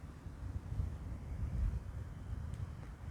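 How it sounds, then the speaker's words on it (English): Wind buffets an outdoor camera microphone set on a travel stand, a continuous low rumbling roar with gusts swelling and easing throughout, no voices present. "I'm using the travel stand, so it keeps lowering and it's quite windy."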